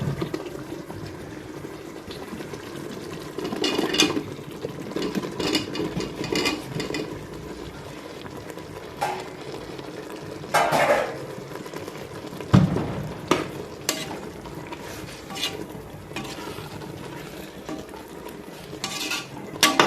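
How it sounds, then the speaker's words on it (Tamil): Chopped mushrooms go into sautéed onions in a cooker for mushroom biryani, with a metal spoon repeatedly scraping and clinking against the pot under a low steady sizzle, and a few sharper knocks close by. "இப்போ நம்ம வெட்டி வச்சிருக்கிற காளானை இது கூட ஆட் பண்ண போகிறோம்"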